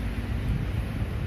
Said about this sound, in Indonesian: Di sini cuacanya ampun, dingin banget, anginnya kenceng.